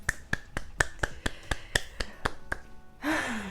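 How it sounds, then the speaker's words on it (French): One person claps about a dozen times at a steady, brisk rhythm, each clap sharp and close. The clapping ends with an excited vocal exclamation. "Allez, on s'applaudit."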